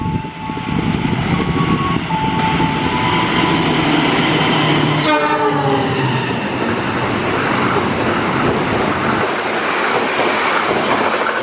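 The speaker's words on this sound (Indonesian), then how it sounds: "Selanjutnya kereta api Cakrabuana 121." Cakrabuana 121 passenger train passing close by, a loud steady rumble of rolling cars with rhythmic wheel clatter and a brief horn blast midway, continuing alone without voices.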